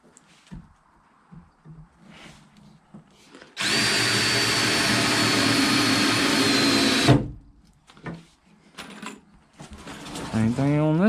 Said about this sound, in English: So now all we're going to do is put the screws in.